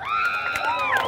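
Carnival street crowd at a bloco parade cheering and whooping, with high shouts and whistling voices overlapping loudly; clapping is not clearly distinct.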